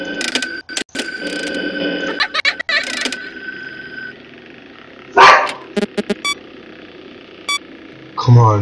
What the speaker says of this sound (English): My dogs are barking.